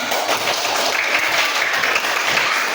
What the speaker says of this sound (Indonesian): pandai semua anak Ibu, tepuk tangan